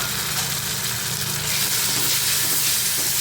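A ground spice paste hits hot oil with fried onion and tomato in a pan for a masoor dal and ridge gourd dish, giving a steady, dense sizzle that grows a little louder partway through, with no talk.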